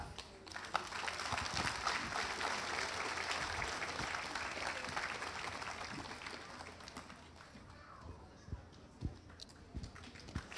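An audience claps steadily at a Nogai community evening in a Ramadan tent in Moscow, a loud, dense patter that gradually thins and fades into scattered claps near the end.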